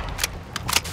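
Weapon reload from Call of Duty: Modern Warfare II multiplayer, with a few quick, crisp mechanical clicks and clacks of a magazine swap over faint background game noise.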